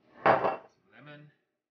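Grilled potatoes, eggplant and tomatoes tossed with lemon, cilantro, olive oil, salt and pepper in a bowl, giving two short clattering bursts, a loud first toss then a softer second, close up with no talking.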